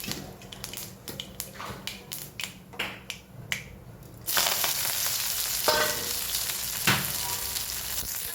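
Curry leaves, green chilies and onion go into hot oil with popping mustard seeds for a tempering. Sharp crackling pops give way to a loud, steady sizzle with a few louder spurts.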